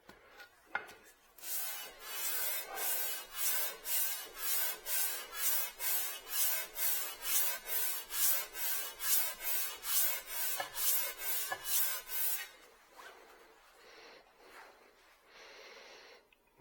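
A Busy Bee #7 jointer plane is rubbed back and forth on sandpaper in a fast, steady rhythm of about twenty close, raspy strokes, then a pause and a few slower scrapes.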